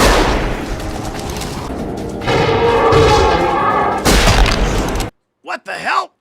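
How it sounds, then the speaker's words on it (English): Gunfire from a zombie-shooting scene in a horror movie: loud, dense volleys of shots and booms pile over a soundtrack roar, then cut off abruptly to a short burst of speech. "I'm talking just shooting zombies for over 7 minutes"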